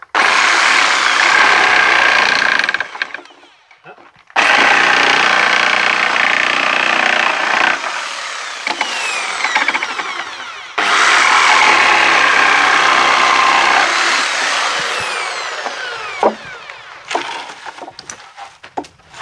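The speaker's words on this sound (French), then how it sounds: "Alors ça c'est notre petite scie sauteuse pour les petits travaux comme ça extérieurs" A jigsaw buzzes loudly through a wooden pallet outdoors in long bursts, stopping twice between cuts, with a harsh rattling whine during each stretch.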